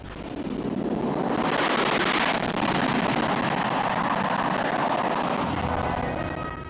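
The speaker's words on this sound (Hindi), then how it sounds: "एक C-17 और 2 सुखोई 30 मिलकर बनाएंगे भीम फॉर्मेशन।" Military aircraft, a C-17 transport and Sukhoi 30 fighters flying in formation at a Republic Day parade, give a loud, continuous jet roar and whoosh that swells and holds as they pass, broad and rushing, with no talk.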